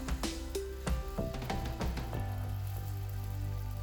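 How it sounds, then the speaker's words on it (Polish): Potato pancake batter frying in well-heated oil in a 15 cm pan for a Hungarian-style placek, giving a steady sizzle with scattered crackles over tonal background sounds. "placki zawsze wykładamy na bardzo dobrze rozgrzaną patelnię"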